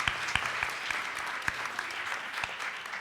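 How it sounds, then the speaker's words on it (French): A church congregation claps in applause, a brief burst of scattered handclaps with a few sharper individual claps standing out, fairly soft and reverberant. "Bravo Emma, un applaudissement."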